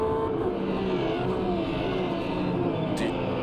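Porsche 911 RSR GTE racing engine in the video game Automobilista 2 at Imola, a steady high-revving drone with sustained harmonic whine held under load, fairly loud and alone.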